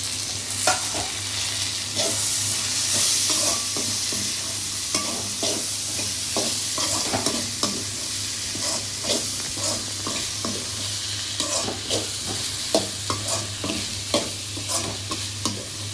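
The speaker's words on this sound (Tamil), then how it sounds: "இப்போ வந்து தக்காளி போட போகிறேன்." Chopped tomatoes frying in a pan for okra curry, with a steady sizzle and repeated scraping and stirring taps throughout, close and alone.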